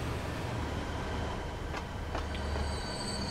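A train runs steadily in the rail-management game Transport Fever 2, a constant rumble with faint wheel squeals and clicks, loud and close with no talk.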